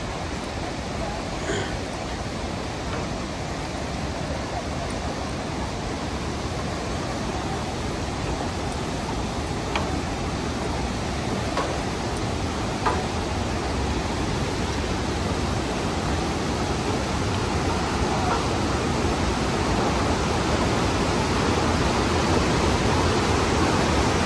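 Waterfall at Johnston Canyon in Banff, a steady dense roar of falling water filling the whole scene, close and constant with no pauses.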